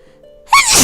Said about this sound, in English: Such sneezes.